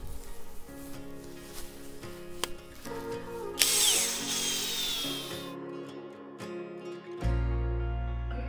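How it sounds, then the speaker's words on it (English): A 3-inch auger drills planting holes in garden soil, its whining motor rising in steady bursts across several seconds, close and loud, with a brief pause before the motor starts again near the end. "I did bring out my 3-inch auger and some flower tone."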